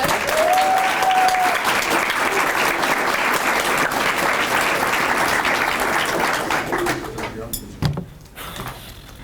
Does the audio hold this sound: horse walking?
no